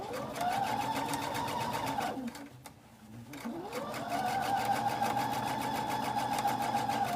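A sewing machine stitches a quilt seam in fast, steady runs, slowing to a brief pause midway before whirring back up to speed, close and continuous with no talking.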